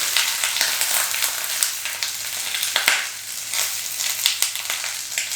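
Cabbage chars and fries in a hot pan, giving a loud continuous crackling sizzle with scattered sharp pops and stirring sounds up close.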